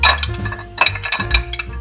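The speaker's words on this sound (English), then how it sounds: "So we'll just do a little bit and we'll start stirring it." Whiskey stirred with ice for an Old Fashioned, close and loud, with bright clinks and rattles of ice against the glass in quick, uneven bursts.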